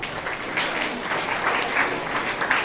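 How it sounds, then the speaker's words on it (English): Applause from the audience at a Class 9 biology quiz in a school classroom: steady, even clapping from a group that fills the whole moment, with no pauses. "Clap for her."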